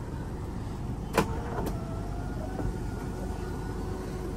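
The electric sunroof of a 2012 Nissan X-Trail hums open inside the car, a steady motor whir under cabin noise with a brief clunk near the start and a lighter click after.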